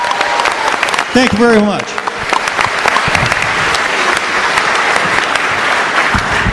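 Audience at a California sheriffs' event gives a loud round of applause that runs throughout, while someone speaks briefly over the clapping near the start.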